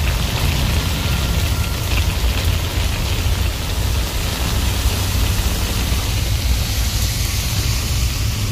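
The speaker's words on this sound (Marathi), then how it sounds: "पाऊस पडतोय" Steady, loud rainfall pours down in a continuous dense hiss of drops on surfaces, unbroken for the whole stretch with no voices.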